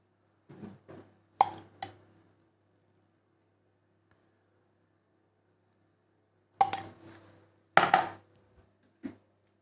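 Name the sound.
mixing food with grainy mustard in a bowl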